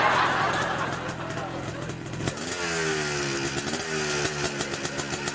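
A motorcycle engine idles roughly, then is revved up in a rising, throbbing drone that swells and dips, close and fairly loud, with people talking over it.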